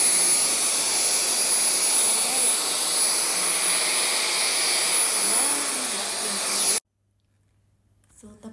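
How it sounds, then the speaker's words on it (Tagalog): A vacuum cleaner runs in a small living room, a loud, steady whine that continues unbroken for several seconds, then cuts off abruptly into near silence, with faint noise returning at the very end. "dito na naman tayo sa mini sala natin mag-vacuum"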